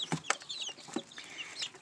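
Bantam chickens, including a small gray hen, cluck softly in short bursts mixed with faint chirps from small birds, close by and quiet.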